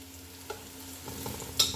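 Onions browning in oil for pulao, a soft steady sizzle with a few faint stirring scrapes and a brief louder clink near the end.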